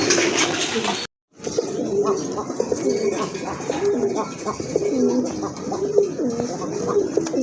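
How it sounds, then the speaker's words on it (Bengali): A pair of sky-blue Rajgolla pigeons cooing, repeated low throaty coos in a steady rolling rhythm close by after a brief cut near the start, with background noise. "খুবই চমৎকার এক জোড়া রাজগোল্লা কবুতর আকাশী কালারের ভিতরে"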